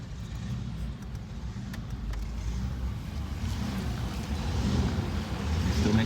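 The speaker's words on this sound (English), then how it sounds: "You can hear these boats from" Deep, steady rumble of cigarette boat engines at a marina, a continuous low drone building slightly in loudness over time, with some wind and water noise and no talking.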